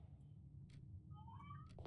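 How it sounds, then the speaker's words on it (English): A house cat gives a single faint, rising meow in the background, distant and quiet over a low steady hum. "if you can hear my cat meowing in the background,"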